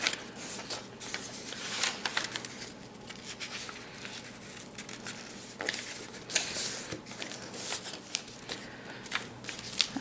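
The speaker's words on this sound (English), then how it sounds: "I'm going to try folding a few more of these other pages here" Pages of an old book are folded by hand into a paper Christmas tree, making close, soft, repeated rustling and crinkling paper sounds in irregular bursts, without speech.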